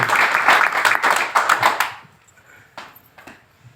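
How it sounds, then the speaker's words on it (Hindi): An audience at a business event applauds loudly for about two seconds, then the clapping drops off abruptly, leaving a few scattered claps. "एक बार तालियां हो जाए आईएमसी के लिए।"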